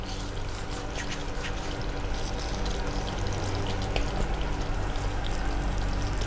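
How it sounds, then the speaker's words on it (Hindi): Water is poured into pepper chicken cooking in a pan with gravy, a steady, close splashing and trickling rush that continues evenly throughout. "और थोड़ा पानी डालकर"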